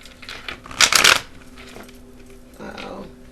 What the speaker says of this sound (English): Alright, so I'm just gonna shuffle.